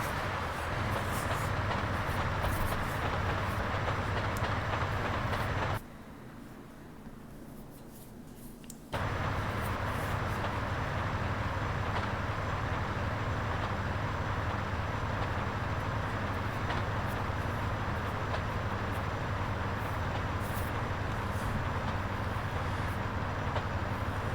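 Freight train rolling on rails in GTA San Andreas, a steady loud rumble of wagons and engine that drops away briefly midway before resuming at full strength.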